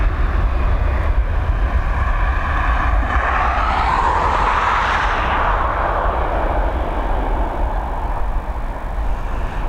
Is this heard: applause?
no